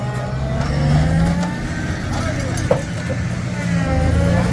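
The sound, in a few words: vehicle engine revving while stuck in sand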